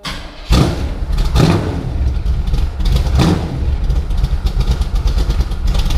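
A car engine, in a vehicle owned less than a day, is revved with a couple of sharp throttle pumps, each rising burst standing out over a rough running drone, loud and close with no talking.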